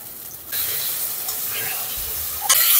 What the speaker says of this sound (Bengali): এই আলুগুলো আগে ভেজে নেব, কড়াই দিয়ে দিচ্ছি